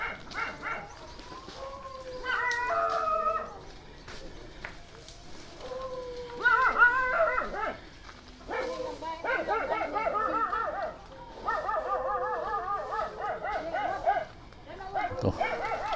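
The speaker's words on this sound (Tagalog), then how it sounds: "May mga kumakahol na aso." Several dogs bark and yip in short irregular bursts at a middle distance, with a faint background hum between bouts, outdoors in a Bohol neighborhood.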